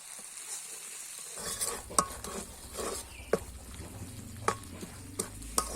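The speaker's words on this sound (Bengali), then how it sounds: "এখন ওইটা ওই তেলের মধ্যে দিয়ে দিব তেলের মধ্যে মশলা এক মিনিটের মতো ভেজে নিব" Pickle spice mix for sweet-sour raw mango pickle hits hot oil and sizzles steadily, with a spoon stirring and scraping the pan in sharp clanks. Sounds are close and there is no talking.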